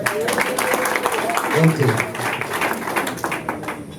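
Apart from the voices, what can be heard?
wedding guests applauding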